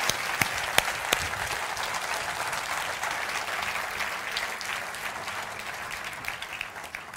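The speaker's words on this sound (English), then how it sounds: "please clap your hands rhythmically and go all tingly for Dingley" A science-communication competition audience claps along in a steady, dense wash of applause, with a few sharp louder claps standing out near the start, continuous throughout without speech.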